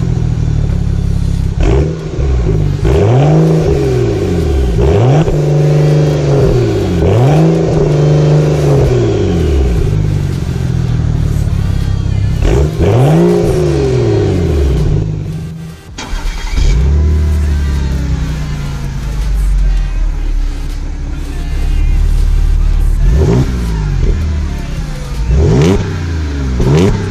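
A powerful car engine, from a BMW 335i or Audi S5, revs hard several times in loud bursts, rising and falling sharply, with a brief lull before more aggressive revving near the end.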